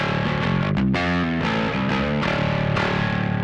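A bass guitar through a Darkglass B7K Ultra distortion preamp pedal plays a run of sustained notes, distorted and gritty, loud and close, with no talking.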